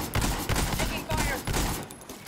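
Gunfire in a multiplayer shooter game, a rapid run of loud shots and bursts in quick succession with a player's voice speaking over them.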